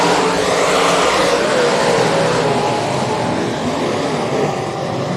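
A pack of United States Modified Touring Series race cars roaring down the track together at a restart at the Rev, a loud, dense, continuous engine roar that fades slightly at the end.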